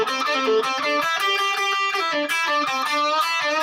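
Electric guitar with effects runs through a continuous improvised solo over backing chords, notes flowing in quick, unbroken phrases at a steady, loud level close to the listener.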